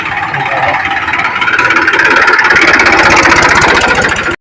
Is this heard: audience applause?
no